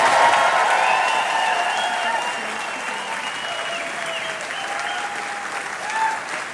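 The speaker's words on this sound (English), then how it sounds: "Let's have a big applause for this amazing team of people here" Sustained audience applause for the Les Misérables 40th anniversary team fills a large hall, steady and fairly loud throughout, with a few voices faintly mixed in beneath the clapping.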